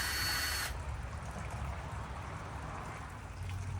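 A power drill pre-drills screw holes for a bird feeder bracket. A short, bright motor whine at the start gives way to a steady, fairly loud broadband rush, with no voices.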